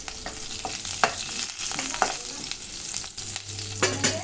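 A bay leaf, cumin seeds and a halved small chili crackle in hot oil in a pan for paneer bhurji: a steady bright sizzle with light stirring clicks, close and fairly quiet, without speech.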